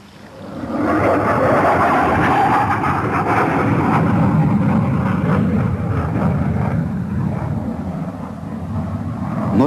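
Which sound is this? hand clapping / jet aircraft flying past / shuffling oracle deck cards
jet aircraft flying past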